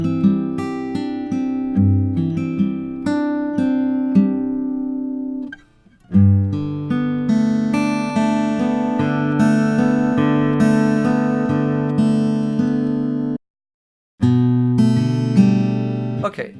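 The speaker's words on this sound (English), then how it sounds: "listen to the guitars, and listen to the bottom end especially" Electric guitars sit in a dense full mix with a heavy, boomy low end, playing steadily with a short dropout midway and a brief gap near the end.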